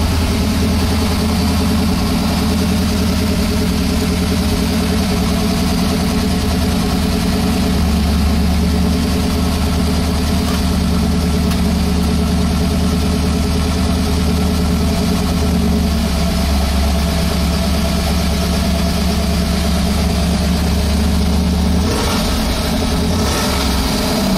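A 1968 Chevrolet Camaro Z28 engine idles loud and close, a steady deep rumble with an even lope that holds throughout without voices.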